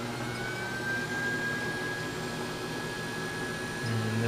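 A metal lathe motor starts and runs in a workshop, giving a steady loud hum with a whine, continuous throughout and alone.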